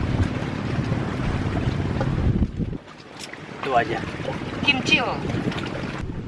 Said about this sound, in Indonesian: Tampaknya angin sangat besar